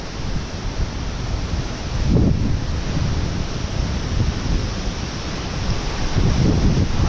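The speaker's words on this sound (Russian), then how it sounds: "это крайний водопад. Практически крайний." A waterfall at Arkhyz pours down in a loud, steady broadband roar of falling water, close by and continuous, with slight surges in intensity; no voices are heard.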